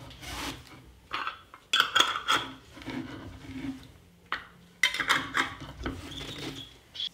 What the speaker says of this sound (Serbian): I tegle zatvaram sa čistim i novim poklopcima.